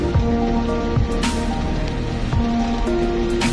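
Steady rain falls outdoors at a busy food stall, a dense continuous hiss with scattered drips and a low background hum from the surroundings, no voices over it.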